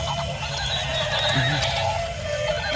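A toy zebra's whinny rings out as the animals gather to graze on a garden lawn, a loud, wavering neigh running the full length over a busy background, with a brief clip-clop-like rhythm.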